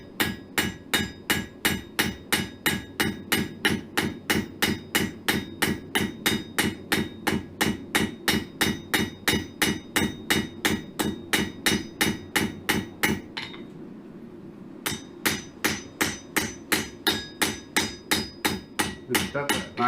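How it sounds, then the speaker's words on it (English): Steady, rapid metallic ball peen hammer strikes texturing a square steel bar for a forged cross, evenly paced and close, with a brief pause before the rhythmic pounding resumes. "I'm just flipping it over using the other side of the hammer to flatten it back out"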